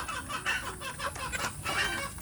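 Village chickens (ayam kampung) clucking in a farm pen, a steady run of short, repeated clucks at moderate distance with a constant background hum.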